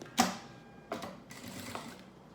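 Sewing machine stitching along the edge of a thermal school lunch bag, a few short mechanical whirring bursts with brief pauses between them, close and moderately loud, no voice.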